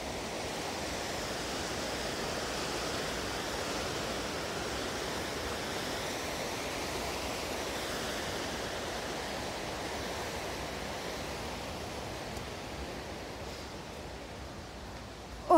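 The River Nene rushes steadily and close by outdoors, a continuous broadband roar of flowing water that holds unbroken and fairly loud throughout, with no voices.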